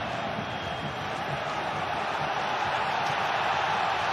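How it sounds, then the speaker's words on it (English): A packed stadium crowd at a Borussia Dortmund versus Bayer Leverkusen football match produces a constant, distant roar of cheering voices, even and unbroken throughout. "The crowd behind them, willing them to go forwards."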